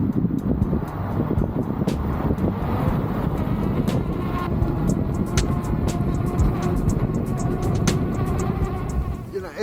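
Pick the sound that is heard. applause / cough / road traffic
road traffic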